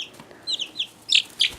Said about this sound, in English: Very upset. Very angry little chicken.